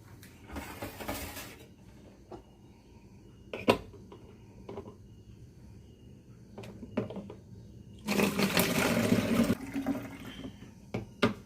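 Homemade cola is poured into a plastic bottle, with two loud, close bursts of gushing liquid, one early and a longer one later, separated by quieter handling clicks and knocks.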